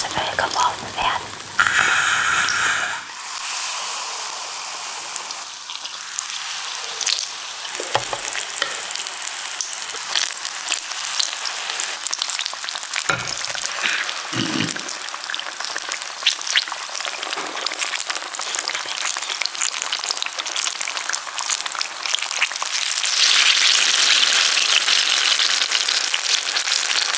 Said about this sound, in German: Wenn man genau zuhört, hört man ihre Schreie, weil sie ins heiße Öl geworfen werden.